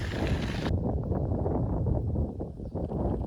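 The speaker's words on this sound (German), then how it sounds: "Immer schön dem Wind entgegen." Heavy headwind buffets the microphone while bikepacking toward Skagen in Denmark, a steady loud low rumble that fills the whole clip with no voices.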